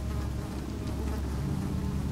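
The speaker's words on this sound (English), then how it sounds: "Some flies buzzing around." Flies buzz around in Amnesia: The Dark Descent, a steady droning hum of insects close by, continuous and moderately loud over dim ambience.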